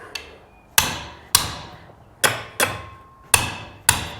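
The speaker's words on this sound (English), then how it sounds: "let's see if we can't get it with a hammer" Sharp metallic hammer blows striking a stripped nut on a RZR 800 S motor during a teardown, seven loud, close strikes at an irregular, roughly half-second pace, each ringing briefly before the next.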